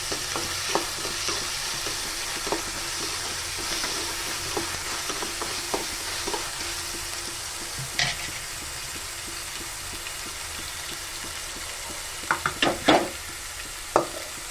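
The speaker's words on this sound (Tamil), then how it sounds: "இஞ்சி பூண்டு விழுது சேர்த்துக்கலாம். நல்லா வதக்கலாம்." Ginger garlic paste frying in a pan, giving a soft, steady low sizzle with scattered light scrapes and taps of a stirring spoon, a few sharper clinks near the end, no talking.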